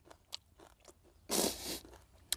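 Crunchy biting into sour bilimbi fruit mixed with lime and starfruit: small, faint chewing clicks, one louder wet crunch in the middle, and another sharp bite at the end, close and quiet.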